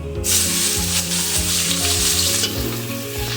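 Cinnamon, cardamom and spice paste hit hot oil with a loud, bursting sizzle that settles into a dense crackle, while a low rhythmic hum and a few knocks sit underneath, with no voice.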